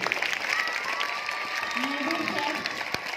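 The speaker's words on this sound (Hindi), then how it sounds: "तालियां जोर से होनी चाहिए।" Applause from an audience at a Hindi-Urdu poetry recital, a steady continuous patter of clapping heard alone at moderate level throughout.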